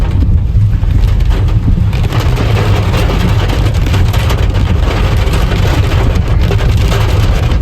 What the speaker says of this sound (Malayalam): ചെറിയ ചെറിയ മഴകളുണ്ടല്ലോ, അങ്ങനെ കേൾക്കാം